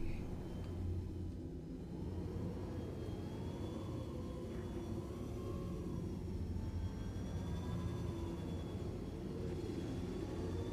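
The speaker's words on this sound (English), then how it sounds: "Use afterburner now to level her off." Spaceship engine in Star Citizen with afterburner engaged, a continuous heavy low rumbling roar with faint whining tones above, steady and loud for the whole stretch.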